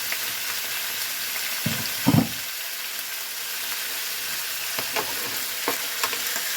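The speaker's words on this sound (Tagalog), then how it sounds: "ilagay natin tong beef para magiging brown siya" Beef browning in a pan for Filipino beef caldereta, a steady close hissing sizzle with a few stirring clatters and spatter pops.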